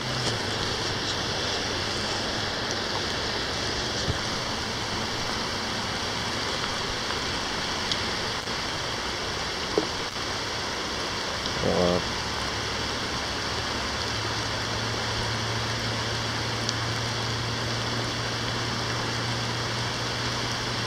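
Floodwater of a creek swollen into a river rushes in a steady, broad roar that holds without a break, with a couple of faint knocks partway through and no voices.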